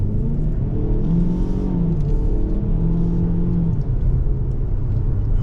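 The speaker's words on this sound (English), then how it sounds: "We're going to bring this to a full stop. And now we're in first gear, and now we're going to go." A 2022 Lincoln Corsair compact SUV pulling away from a full stop in first gear, a steady engine rumble and whir rising as it accelerates, heard from inside the cabin with no talking.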